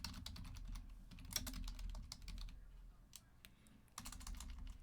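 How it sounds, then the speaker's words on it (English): Rapid typing on a computer keyboard in bursts of clustered keystrokes with brief pauses, close by over a low background hum, with no talking. "Hold on. I'm typing"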